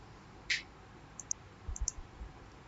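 A computer mouse clicking while working in Microsoft Excel: a few sharp, light clicks spaced apart in a quiet room, close to the microphone, with no talking.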